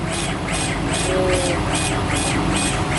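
A Hanyu laser machine cuts an acrylic plaque, giving a loud, steady broadband rush of fan and exhaust noise with a faint rhythmic whoosh pulsing about twice a second, continuous throughout.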